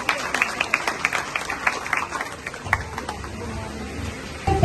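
Audience applause at a women's day gathering: a crowd of hands clapping in a dense, fairly faint burst that thins out over a few seconds, with voices murmuring in the room.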